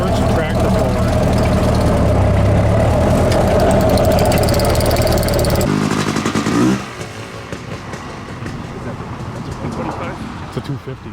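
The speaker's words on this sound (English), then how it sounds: "When I push in the clutch and put it in gear, it should not lurch the tractor forward." A tractor engine runs loud and steady, its rumble shifting as the clutch is pushed in and the tractor is put in gear, then settling to a lower, rougher idle.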